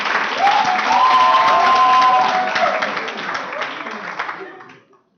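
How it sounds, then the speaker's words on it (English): Applause from an audience at an award ceremony, a dense burst of clapping with some cheering and whistles that holds steady and then tapers off to silence. "Please give them a clap."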